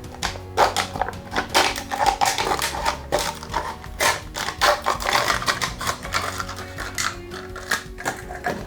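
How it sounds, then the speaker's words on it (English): A paper or plastic cup is cut open for fluid art, producing a run of sharp, irregular snipping and crunching clicks close by, steady for several seconds without talk. "I have this cup, but it isn't open yet, so I will cut it open"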